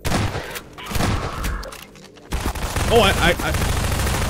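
Shotgun blasts in the video game Half-Life 2: Episode 1 boom loudly near the start, followed by more gunfire and combat noise while a voice briefly exclaims over it.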